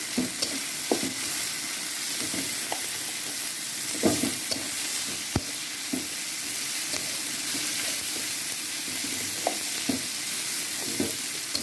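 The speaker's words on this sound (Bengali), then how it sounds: "আলাদা করে ভেজে দিব কালো জিরা" Black cumin seeds sizzle and fry in a pan for fish bharta, a steady crackling hiss with occasional sharp pops and stirring scrapes throughout, close and alone without voices.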